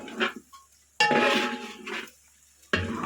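A utensil scrapes and clinks against a pan while pepper dry chicken gets stirred, with short separate bursts of stirring and gaps of quiet between them.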